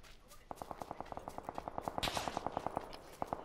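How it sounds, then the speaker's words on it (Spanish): Rapid automatic gunfire in the PUBG battle royale game, a fast burst of sharp evenly spaced shots from a moderate distance, briefly pausing then resuming, with no talk over it. "Ahí, hay balazos."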